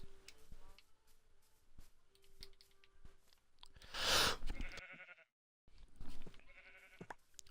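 A sheep in a video game lets out a single loud, bright bleat partway through, surrounded by small ticking and clicking game sounds, with a brief drop to silence afterward.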